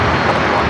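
A Delta Boeing 757 jet at San Diego airport roars loudly and steadily up close, a continuous broadband engine rush with no pauses.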